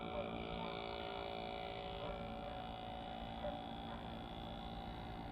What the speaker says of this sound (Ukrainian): Компресор працює, дає кисень рибкам.